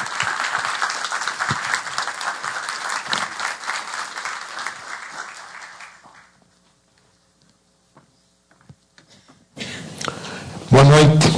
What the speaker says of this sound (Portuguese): Vamos recebê-lo com um aplauso de boas-vindas?